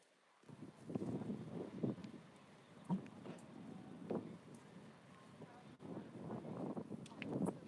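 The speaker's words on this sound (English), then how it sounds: "It's a little windy." Gusty wind buffets the microphone on a Hollywood street in Los Angeles during an afternoon walk, with low rumbling surges that rise and fall every second or so.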